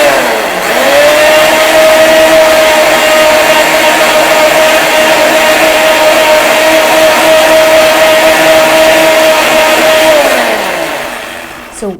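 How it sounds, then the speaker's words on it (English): A kitchen blender runs steadily for about ten seconds, whirring a soaked mixture blended with water into a thick, jam-like paste for a constipation home remedy. The motor is loud and close, and it winds down near the end. "So we are going to blend it"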